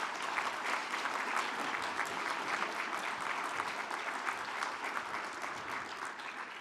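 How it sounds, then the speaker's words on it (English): An audience at an employment recognition awards breakfast gives sustained, even clapping throughout, with no voices over it. "let's give them all a round of applause"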